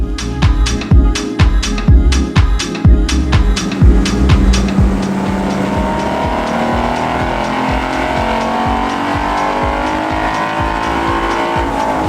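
A stock Mustang GT V8 on a dyno revs through a string of sharp rhythmic bursts, then settles into a loud, sustained high-rpm roar that rises steadily, heard up close with no talk.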